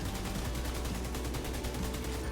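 Weapon fire in The Division 2 rattles in a steady, rapid automatic stream of evenly spaced shots, fairly quiet and continuous throughout.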